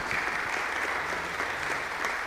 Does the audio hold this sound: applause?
yes